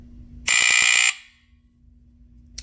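A First Alert SA150LT or FireX FX1014 smoke alarm shrills with a loud piercing pulsed beep for about half a second, then cuts off and leaves a faint hum behind.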